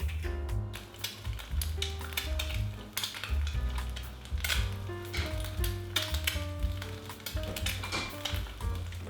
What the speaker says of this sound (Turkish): Bir tavaya yumurtayı kırın ve beyazları pişene kadar 2-3 dakika pişirin.